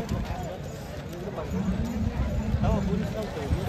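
Bulls' hooves galloping in a bullock cart race, a rapid clopping rhythm close by, mixed with shouting voices and crowd noise.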